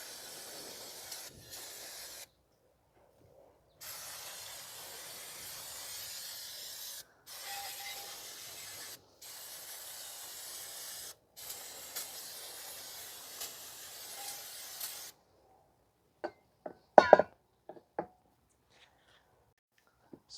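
Spray washing brake dust off the rear brakes of a 2015 Toyota Sienna 3.5 V6, in several steady hissing bursts separated by short pauses, followed by a few close clicks and clunks.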